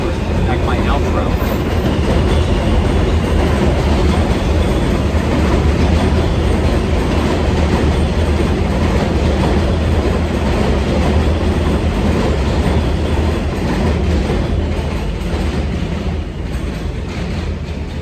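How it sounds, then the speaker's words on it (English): A train passes by outdoors, a loud, steady roar of rolling wagons and rumbling wheels that holds for the whole stretch without a break. "I'll let that train go by real quick"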